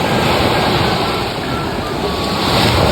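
Steady rush of surf rolling onto Tagumpay Beach, broadband and continuous, with some wind noise buffeting the microphone throughout.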